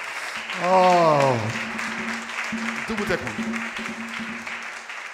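An audience claps steadily through a live engagement-to-marriage seminar, a dense, even patter that keeps going after a short exclamation from a voice near the start.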